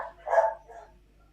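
A dog barks in the background of a live audio call, one muffled bark followed by a softer second yelp, fairly faint and distant.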